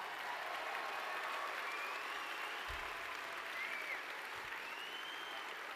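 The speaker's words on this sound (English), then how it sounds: "Now we can give them a round of applause." An opening ceremony crowd at the 2022 BC Summer Games gives the directors a round of applause, a sustained, even roar of many hands clapping from far off, with no voices over it.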